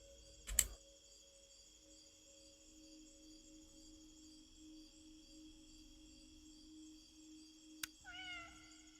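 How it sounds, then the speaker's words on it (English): A single short cat meow near the end in the video game Indigo Park, heard over a quiet sustained electronic drone, with a sharp click earlier and another just before it. "Meow."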